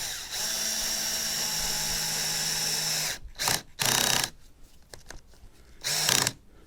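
A power drill drives screws into a board of an old redwood deck cabinet. It gives a steady, close whine for about three seconds, then several short bursts of drilling with quiet gaps between them and no talk.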